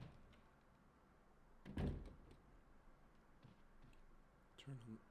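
A heavy insignia door in the Resident Evil game swings open with one loud, short thud-and-creak burst near the start, then a quieter clunk at the end over a low background hum.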